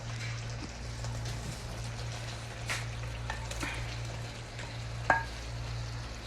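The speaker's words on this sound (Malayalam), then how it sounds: "ഇനി നമുക്ക് ചെമ്മീൻ ആഡ് ചെയ്ത് കൊടുക്കാം ഇതിലോട്ട്" Prawns hit a pan of tomato masala for a traditional Kerala prawn roast, a steady soft sizzle and frying crackle running throughout with a steady low hum beneath and a brief sharp clink near the end.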